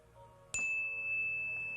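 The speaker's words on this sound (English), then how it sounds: "as the sound of the bell fades into the distance" A meditation bell struck once and left ringing, a clear sustained metallic tone that slowly fades in a quiet room.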